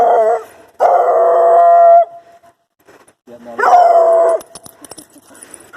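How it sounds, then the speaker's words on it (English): Dogs, Redbone Coonhound puppies and Airedale adults, howl loudly and close by in two long drawn-out bursts separated by a short pause, with scattered barks and yips in between. "I'm just surrounded by dogs here"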